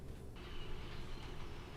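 A train in the Derail Valley rail game rolls in with a steady, dense mechanical rumble of rail wheels and carriages, continuous and fairly loud, with no one talking.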